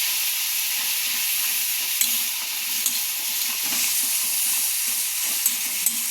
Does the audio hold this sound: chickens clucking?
no